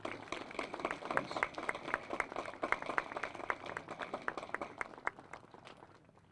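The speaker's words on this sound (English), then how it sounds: "One more round of applause." Audience applause at a Veterans Day ceremony in Arlington, a steady patter of many hands clapping for several seconds before tapering off toward the end.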